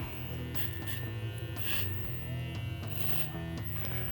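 Electric hair clippers buzz steadily while cutting hair in a celebrity-inspired haircut, a close continuous hum with short rustling strokes as the blades pass through.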